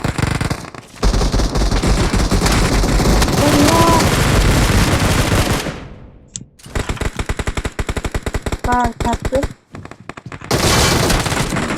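Automatic gunfire in a video game match, with dense rapid bursts of shots that fill most of the clip, loud and close. The firing breaks off briefly twice and then resumes, with faint game voices mixed in.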